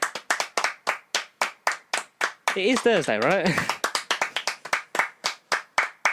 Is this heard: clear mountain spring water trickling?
no